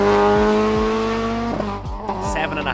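A Ford Fiesta rally car at a historic rally in Killarney passes at speed with a loud, steady engine note and falling pitch sweeps as it goes by, followed by a second car, while voices talk over it.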